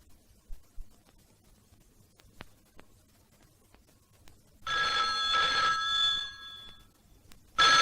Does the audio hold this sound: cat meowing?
no